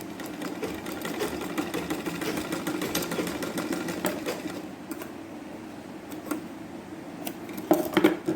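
Sewing machine stitching a fabric piece for a sleeve, a steady close mechanical whir with rapid needle clatter running throughout, broken by a few small clicks and a brief pause near the end.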